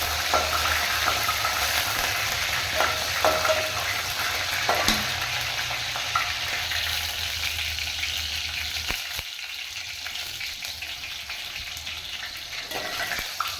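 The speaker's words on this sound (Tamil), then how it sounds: "இது கொஞ்சம் வதங்கினது." Green chillies, onion and curry leaves frying in a pan as the base for carrot gravy, a close, continuous oil sizzle with occasional scraping stir sounds throughout, steady and unbroken.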